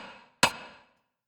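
Percussion layer added on top of a tearout dubstep synth sound: a single sharp, bright transient hit with a short ringing tail, following a fading tone.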